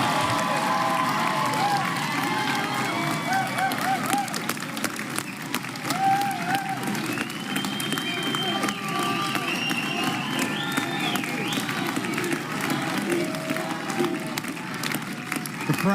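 A large crowd at an RFK Jr. presidential debate event applauds and cheers continuously, dense clapping with scattered whoops and shouts sustained throughout.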